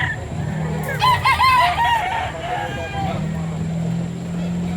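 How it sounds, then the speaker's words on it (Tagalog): A rooster crows once, fairly close, at a chicken market in Bocaue, Bulacan, its call rising and falling over a steady low engine hum and scattered clucking. "papasadaan natin yung mga manok ni Boss Ray dito"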